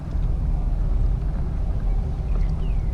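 A float tube's small electric motor runs steadily in reverse, backing toward a shallow bank, a continuous low hum close by with no one talking.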